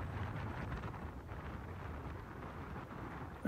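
Strong wind buffeting across a golf course, a low continuous rumble of gusts battering the microphone, steady throughout with a sharper burst at the very end.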